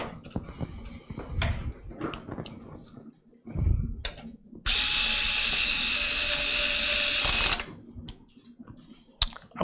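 A Milwaukee cordless drill on its slow speed setting drives screws during a budget computer build, with a loud, steady whine lasting about three seconds between shorter clicks and handling noises.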